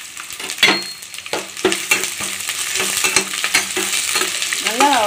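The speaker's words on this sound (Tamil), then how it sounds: "அதோட இந்த பச்சை மிளகாவும் இதில் சேர்த்து நல்லா வதக்கிக்கலாம்" Onions, curry leaves and green chilies sauté in a pan for a Tamil parotta salna, with a steady close sizzle broken by repeated sharp scrapes and knocks of a spoon stirring against the pan.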